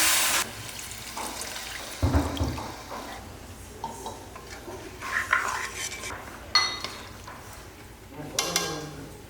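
A chili powder mixture being stirred in a kulambu pan for vatha kulambu, with scraping, clinking spoon-on-pan sounds in irregular bursts, fairly close and moderately loud.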